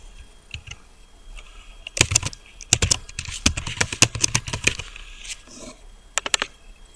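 Quick bursts of typing on a computer keyboard while text is entered into a Word document footer, crisp clustered key clicks with short pauses between runs, close and clear with no talking.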